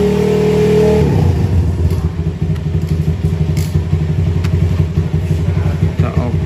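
A fuel-injected motorcycle engine in a workshop during ECU remapping, a steady held rev that drops after a second into a low, lumpy idle with a loud, continuous rumble throughout.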